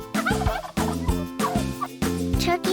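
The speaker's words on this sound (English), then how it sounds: "They like to gobble and show off for each other." Domestic farm turkeys gobbling in repeated loud, close bursts, several rapid gobbles in a row with brief gaps, no talking.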